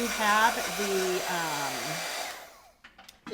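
A hair dryer blows on wet watercolor paint, a loud close whirring hum with shifting pitch that cuts off partway, followed by a few faint handling clicks.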